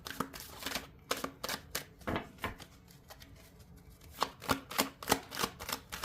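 Tarot deck being shuffled by hand, a string of crisp card slaps and riffles in irregular bursts, close and quiet with no voices.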